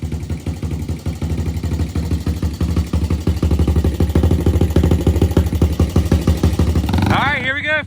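A Honda TRX 90 ATV engine idles close by in a fast, steady, throbbing pulse that runs for several seconds. A brief rising whine follows near the end.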